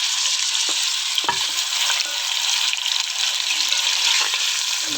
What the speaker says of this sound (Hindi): सबसे पहले हमने ऑयल डाला, तो अब इसमें हम ये सारा चिकन डालेंगे